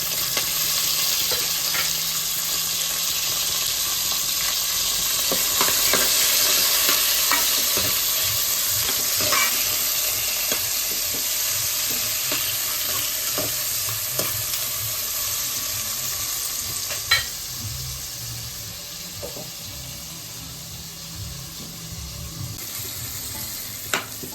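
Onions and tomatoes with green chillies and cashews frying for chicken biryani, a steady sizzle with scattered scrapes and clinks of a spoon stirring the pan, no voices.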